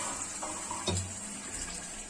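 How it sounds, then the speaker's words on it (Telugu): Tamarind water is poured into a stuffed eggplant curry, making a steady close watery pour with a brief splash partway through. No one speaks. "ఇప్పుడే చింతపండు వాటర్ కూడా పోసుకోవాలి."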